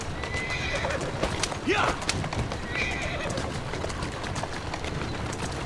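A horse in the video game Assassin's Creed Syndicate gives a loud, close whinny over steady clip-clopping hooves, while someone talks.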